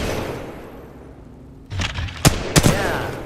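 Several gunshots from a weapon in the video game Titanfall 2, fired in a short burst of loud, sharp reports with echoing tails after a quieter background stretch.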